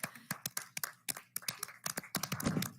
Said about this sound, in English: every social worker in our district really deserves a round of applause right now